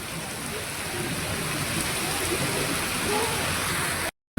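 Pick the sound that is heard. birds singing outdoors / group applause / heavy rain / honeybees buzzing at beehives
heavy rain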